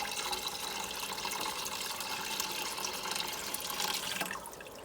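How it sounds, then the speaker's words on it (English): Warm water pours from a tap into the basin of a Presto pressure canner, a steady close splashing rush that fades slightly at the end. "We're going to fill up the basin until that line."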